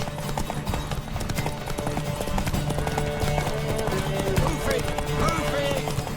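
Hooves clip-clop steadily from a horse in The Witcher 3, with a brief whinny, under continuous game music and voices talking throughout.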